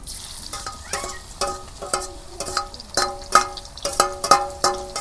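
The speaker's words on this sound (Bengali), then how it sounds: "এখন আমি তেল গরম হয়েছে পেঁয়াজ কুচি দিয়ে দিই" Chopped onion sizzling in hot oil for Bangladeshi beef kala bhuna, with repeated scraping and stirring strokes of a spatula against the pan in an uneven rhythm, close and moderately loud, no talking.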